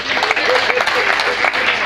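A crowd at a celestial church event claps steadily. Dense, close applause with rapid overlapping hand claps runs throughout the short burst.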